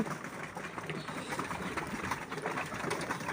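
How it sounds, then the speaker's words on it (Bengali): Pigeons on a rooftop give soft, faint cooing over a quiet, steady background hiss, with light scattered fluttering and movement. "কবুতরগুলো রেজা খাচ্ছে"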